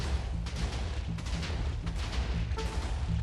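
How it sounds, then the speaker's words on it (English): Many Minecraft TNT blocks exploding at nearly the same time, a loud dense rumble of overlapping booms with rapid cracking bursts, continuous from start to end. "That's 12 TNT flying down at the same time and exploding all at the same time"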